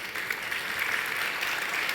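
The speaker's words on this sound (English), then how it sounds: "Applause." Applause from a conference audience at the end of a festival panel, a dense, even wash of many hands clapping at moderate volume, heard alone without speech.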